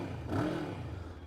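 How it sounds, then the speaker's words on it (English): A Voge 525RR sport motorcycle engine runs close by in a short burst, a brief rising rev over a steady low rumble, fairly quiet overall. "Let's listen to the engine."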